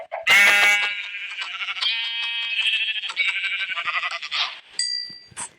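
A goat in the Minecraft video game bleats in a long, quavering, wavering cry, loud and close, followed by a few short electronic game sounds near the end.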